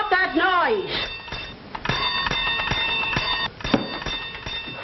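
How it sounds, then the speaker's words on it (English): An alarm bell rings steadily and insistently, a bright sustained metallic clangour that carries through nearly the whole stretch after a brief vocal sound at the start, in an old 1940 film scene. "Oh, stop ringing that bell."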